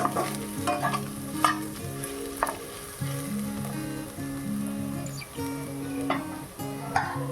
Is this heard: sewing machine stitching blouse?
no